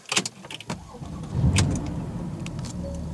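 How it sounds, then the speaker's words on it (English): A Porsche engine starts after a few clicks and key or switch sounds, then settles into a steady idle that runs close and loud to the end, with no talking. "I'm just going to start the engine here"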